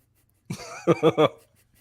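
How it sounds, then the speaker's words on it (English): One person clears their throat, a short rough hack followed by three quick guttural bursts, close and otherwise quiet. "I'm trying to clear my throat."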